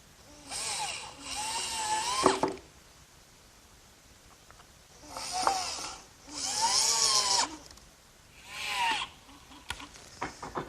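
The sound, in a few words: power drill driving screws to fasten runner to frame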